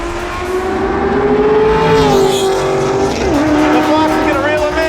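A Ford Mustang Mach 1 with a drag pack and a Foxbody Mustang drag race at a large one-day Mustang car show. Engines roar loudly and steadily, and pitch shifts as they accelerate down the strip.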